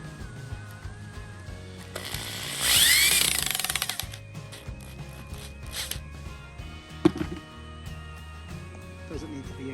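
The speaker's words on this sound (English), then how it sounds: "and then we'll drill them right in" A power drill driving screws into an end table, one rising whir of a few seconds, then clicks and light knocks of handling.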